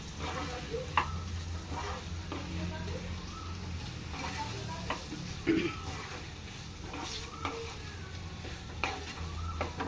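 Masala with chili powder frying in a pan for a chamadumpa (taro root) dish, giving a steady close sizzle with light stirring scrapes throughout and a faint hum beneath.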